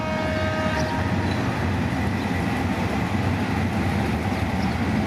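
An empty Hitachi locomotive arriving at a depot, a loud continuous diesel rumble and rolling drone close by, steady throughout with a brief high tonal note near the start.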